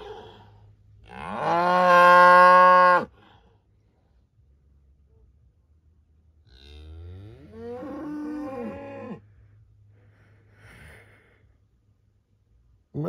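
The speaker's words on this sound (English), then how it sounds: "Some cows appeared in the corner of this field. This black one's particularly noisy." A black cow in the corner of a field on Cape Clear Island, Ireland, lets out two long, loud moos several seconds apart, close by, with quiet outdoor air between them and no talk.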